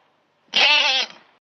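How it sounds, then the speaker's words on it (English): A goat gives a single short, wavering bleat, close and loud, about a second long and alone against silence. "That's right, it's a goat. The goat says meh, meh."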